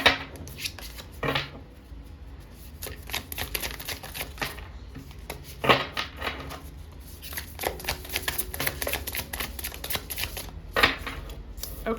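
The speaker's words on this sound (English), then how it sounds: "I'm going to give this a good shuffle because it's a very new deck" A brand-new tarot card deck is shuffled repeatedly close by, bursts of crisp riffling and flapping cards recurring every second or two against a quiet room.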